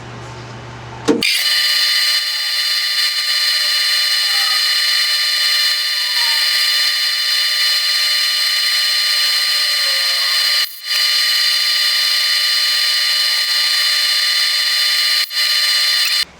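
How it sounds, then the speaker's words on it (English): A steady high-pitched whir of a wooden urn being sanded on a spinning lathe runs continuously and loud, briefly dipping twice. "So let's get some sanding going."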